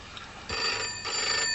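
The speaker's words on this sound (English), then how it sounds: "Phone? I'll go." Telephone rings indoors in a 1985 British home, a bright electronic trilling in two bursts, fairly loud and close, with no talking over it.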